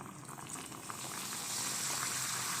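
Keora water poured into maida halwa cooking in a hot pan, giving a steady, close bubbling sizzle that swells slightly louder partway through.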